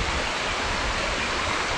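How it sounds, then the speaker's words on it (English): Small river on open moorland, the Dean Burn, flowing steadily with a close, continuous rush of water and no voices or breaks in the sound. "So we've managed to rejoin the Dean Burn, which is now turned into quite a little river"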